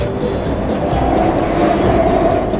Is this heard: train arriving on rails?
yes